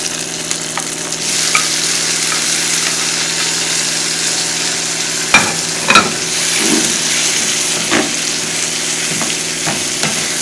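Onions and tomatoes fry in a pan for an egg sauce, a steady close sizzle broken by several scraping clicks and knocks of stirring, with a faint hum beneath and no talking.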